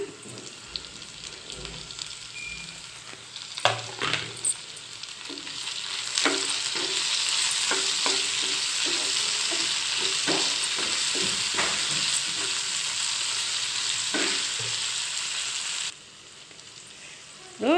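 Tomato goes into a hot oiled pan and fries with a steady, close sizzle that swells partway through, broken by repeated scraping and tapping strokes of a spoon stirring, with no voices.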